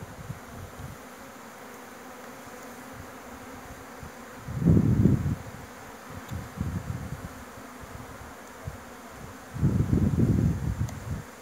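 Honeybees hum steadily during a hive transfer between boxes, their buzzing swelling close and loud twice among rustling handling sounds, with no talking.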